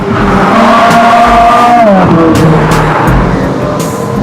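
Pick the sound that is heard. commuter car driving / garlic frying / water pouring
commuter car driving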